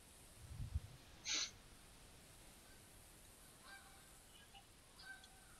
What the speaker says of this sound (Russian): Где-то у нас гусь курлыкает.